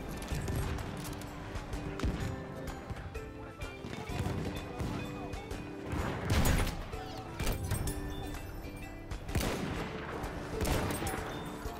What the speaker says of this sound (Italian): sta utilizzando un cannone anti-uomo